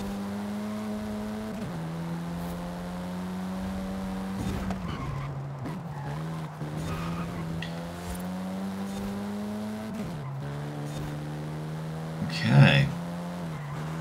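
Car on off-road tires driving in Forza Horizon 5 on the Valley View Raceway EventLab track, a steady engine drone shifting pitch through gear changes, with a brief tire squeal near the end and a short spoken word over it.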